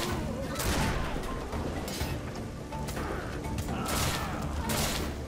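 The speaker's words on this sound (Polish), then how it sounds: "jak właśnie strzelam dwa strzały naraz" A musket fired as a double shot in the video game Risen 2. Several sharp, loud blasts stand out over continuous clattering game ambience, with no talk.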